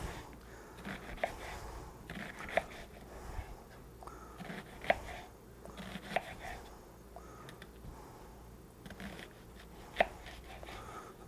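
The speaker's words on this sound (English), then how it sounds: "Then you just take it and slice them about the same." A knife slices an onion on a cutting board, with sharp, evenly spaced chops every second or two, close by and fairly quiet.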